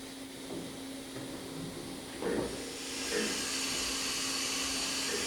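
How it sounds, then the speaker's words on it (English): A Fadal CNC vertical machining center runs a tool change, giving a steady mechanical hiss and whir with a couple of brief clunks and whooshes in the middle. No one speaks. "Now we're going to do a tool change."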